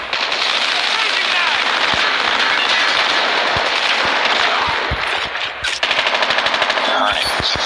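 A sentry gun in a video game fires a dense, loud stream of rapid automatic shots that runs almost continuously, with a brief gap near the end before more quick bursts.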